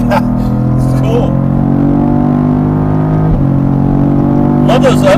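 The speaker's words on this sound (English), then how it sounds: "Love those upshifts." A Cadillac CT4-V Blackwing engine revs and drops repeatedly as it shifts up through gears on the Circuit of the Americas track, loud and close, with a sharp change midway and rising whine near the end.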